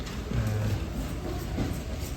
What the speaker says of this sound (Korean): 서울령 열차는 떠나고 있네요.